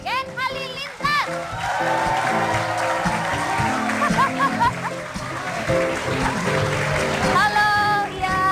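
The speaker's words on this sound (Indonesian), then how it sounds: "tepuk tangan untuk keluarga Gen Halilintar." A television studio audience applauding and cheering for a family of guests, loud dense clapping with crowd noise, mixed with voices and kids' chatter over the top throughout.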